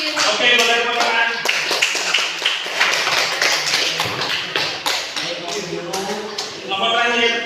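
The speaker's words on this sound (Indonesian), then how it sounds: "Oke, boleh tepuk tangan." Students in a classroom clap together, a dense patter of hand claps running for several seconds, with voices talking and calling out over the clapping near the start and end.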